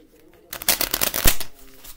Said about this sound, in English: Now I gotta shuffle this with my hands.